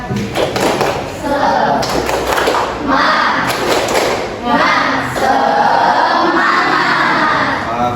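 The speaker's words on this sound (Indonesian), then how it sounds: "Tepuk Semangat" A classroom of children performs a rhythmic group clapping chant led by the class leader, with loud, sharp clap bursts in patterned sequences mixed with shouted voices close by.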